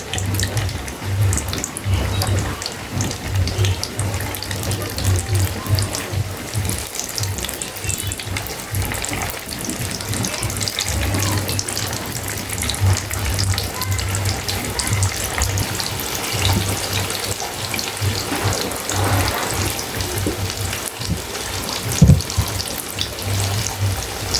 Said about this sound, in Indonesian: di sini saya sudah panaskan minyak. Nih, siap buat kita goreng ya